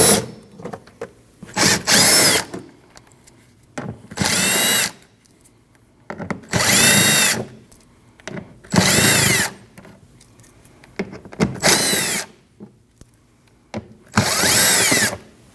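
A power tool drives out 7mm bolts holding the front wheel liner on a 2013-2019 Ford Escape, sounding as about eight loud, separate high whirring bursts of a second or so, with quiet gaps between them.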